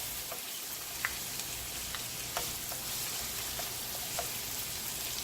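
Quiet, continuous sizzling and light popping from sun-dried tomatoes frying in a pan, with occasional soft crackles and no speech.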